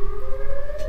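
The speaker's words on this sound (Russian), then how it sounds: "Слышишь? Сирена." A siren wails steadily for under a second, a loud sustained tone rising slightly in pitch, heard alone without speech.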